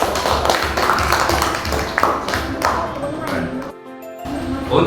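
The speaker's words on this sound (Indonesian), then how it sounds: "tepuk tangan untuk semuanya" Classroom applause for all the groups in a fourth-grade lesson, a burst of light, rapid clapping from many children mixed with chatter, tapering off near the end.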